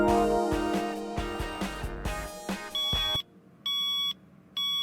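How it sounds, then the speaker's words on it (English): A fire alarm in a cartoon school hallway goes off as loud, sharp electronic beeps in short repeated bursts, following a dense stretch of louder cartoon sound. "Let's pull the fire alarm."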